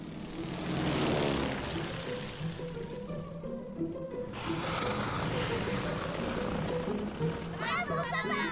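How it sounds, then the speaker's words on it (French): Propeller airplanes drone overhead in a cartoon, a steady engine hum running beneath lively character voices, including a child's, with talk throughout. "C'est pas des oiseaux, c'est des avions."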